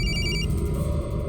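A telephone gives a short burst of electronic ringing, a couple of quick bright pulses that stop partway through, leaving low background hum and room noise behind.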